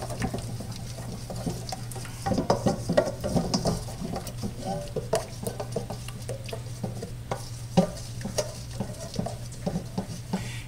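Lumpy Black Russian goop cake batter being stirred and squished in a bowl makes soft, wet, irregular squelches and scrapes, moderately loud, over a low steady hum.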